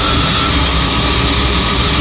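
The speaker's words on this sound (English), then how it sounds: "you hear the engine load up" Steady, loud engine drone from the Blue Thunder truck while its power steering is worked, a broad continuous roar with no pauses, no talking over it.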